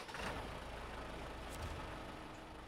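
A vehicle engine idles steadily in a driving video game, a low continuous rumble at moderate level with a brief hiss partway through, no talking.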